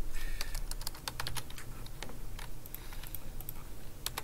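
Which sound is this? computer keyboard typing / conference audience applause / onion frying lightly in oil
computer keyboard typing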